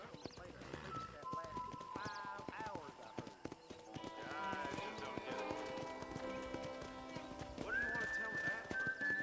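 Horse hooves clip-clop steadily with occasional whinnies at a ranch corral in the video game Red Dead Redemption, alongside music and background talk in a busy outdoor scene.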